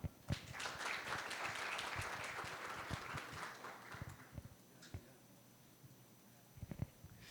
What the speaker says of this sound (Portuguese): Uma salva de palmas para o senhor Gil Mairon